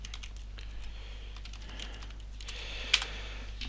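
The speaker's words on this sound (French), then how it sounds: "Alors je tape son adresse email" Steady, fast keypresses on a computer keyboard while an email address is typed, a close run of light clicks with one sharper tap near the end, no voices.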